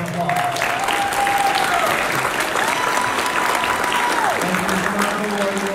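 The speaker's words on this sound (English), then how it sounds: "So I just want to give them a quick round of applause." A crowd applauds steadily at a school robotics competition, a dense wash of clapping that holds throughout, with a faint tone drifting underneath.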